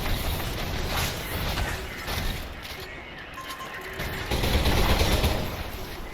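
Gunshots from a pistol in the sci-fi shooter Selaco, rendered as a dense run of firing and impacts over busy game noise, louder toward the end, with no talking.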